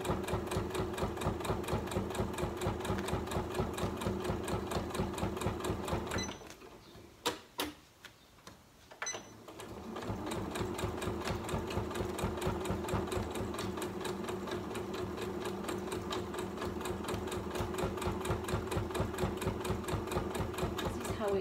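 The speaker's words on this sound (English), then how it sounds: "now I'm just going to continue sewing where I stopped here all the way along until I get to where I started" A sewing machine stitches a fabric vinyl storage pocket, its rapid, even ticking running steadily, stopping briefly around the middle with a few knocks of handling, then resuming at the same pace through the end.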